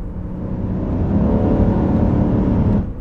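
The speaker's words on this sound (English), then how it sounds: "the flat six sound in here is kind of cool" A Subaru Outback's flat-six engine accelerates with a steady, muffled rising drone, heard from inside the cabin, before easing off at the end.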